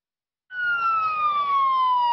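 A police siren wails at the start of a Baltimore-area Fourth of July parade, one loud, near tone sweeping slowly downward after a brief silence.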